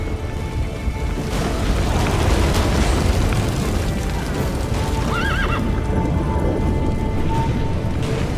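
Horse hooves clip-clop over a dense rumbling backdrop in the video game The Witcher 3: Wild Hunt, and a horse whinnies partway through, all fairly loud and close.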